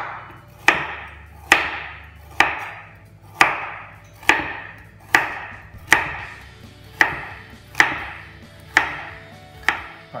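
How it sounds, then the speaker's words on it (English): A knife chopping carrots at a slight angle on a board, about a dozen crisp, evenly spaced strokes roughly one per second, close and clear with short ringing decays and no talking. "So kind of just cut at a slight angle as if you're doing mirepoix or veg."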